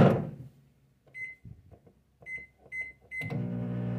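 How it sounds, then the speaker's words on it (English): A microwave oven runs while melting candy corn for homemade peanut butter bars, with short beeps sounding at intervals and a quiet hum between them, ending in a louder burst of noise. "you're going to melt your candy corn in the microwave in 30-second intervals."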